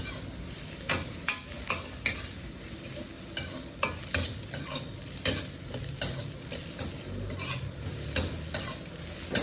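Garlic and shallots sizzle and crackle steadily in hot oil, with repeated sharp scraping clicks of a spatula stirring the pan up close.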